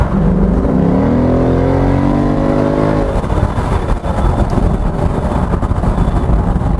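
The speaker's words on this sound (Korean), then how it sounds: "이 배기음은 진짜 끝내주네요." Ford Mustang 5.0 V8 on snow tires accelerating on the road, its exhaust climbing loudly through the revs for a few seconds before settling into a dense, steady roar while cruising.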